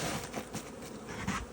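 Honeybees buzzing close by around an opened Bee Cube hive, a dense continuous drone with no voices over it.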